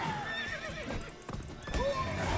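The horse Roach in The Witcher video game whinnies and snorts while hooves clip-clop steadily, close and moderately loud over a continuous ambient background.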